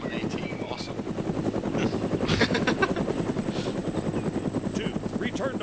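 Helicopter flying overhead in the ArmA 3 combat game, a steady loud rotor chop throughout, with occasional bursts of gunfire and radio chatter mixed in beneath.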